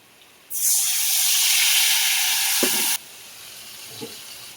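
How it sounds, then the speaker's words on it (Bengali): Spice paste mixed with mustard and poppy seed hits frying pointed gourd in hot oil, bursting into a loud, sustained sizzle that cuts off abruptly after a few seconds, with a faint knock afterward. "পটল ভাজা তেলের মধ্যে এই মশলাটা দিয়ে দিচ্ছি"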